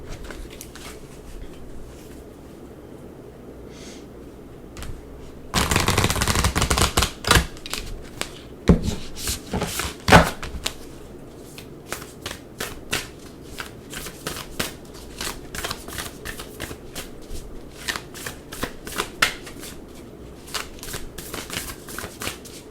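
A deck of Sufi wisdom oracle cards is shuffled by hand, with a sustained burst of dense riffling followed by a long run of irregular soft flicks and slaps, close and steady with no talking.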